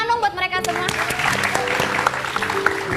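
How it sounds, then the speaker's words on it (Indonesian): An audience applauds after a band's performance, with a short burst of dense clapping that quickly follows a voice, while sustained tones carry underneath. "Tepuk tangan dong buat mereka semua."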